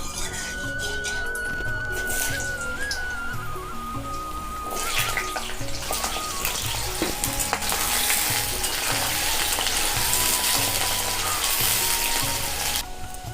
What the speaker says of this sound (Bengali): তেলটা গরম হয়ে গেছে বন্ধুরা, আমি আলুগুলো ভেজে নেব।